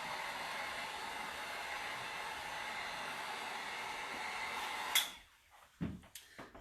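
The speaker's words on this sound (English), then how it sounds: "when you're hitting paint with a heat gun to dry it" A heat gun blows a steady, loud whooshing roar over chalk-painted Christmas ornaments for about five seconds, then cuts off, leaving a few soft handling knocks.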